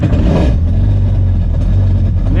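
A supercharged Yamaha FX SHO WaveRunner engine, out of the water, runs loud and close with a steady low idle rumble throughout after a brief rise at the start.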